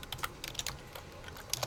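Rapid typing on a computer keyboard, with a steady patter of close, crisp key clicks and a few sharper strikes, heard alone without talk.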